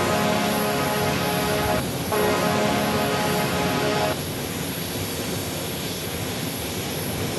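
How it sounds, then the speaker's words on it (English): A Delta Airbus A330 arriving at Sky Harbor Airport gives a loud jet whine with layered engine tones that briefly dip, then fade into a broad, softer rumble, with no speech. "we got a sound heavy alert for an A330 arriving from, I think it's Atlanta, on a Delta"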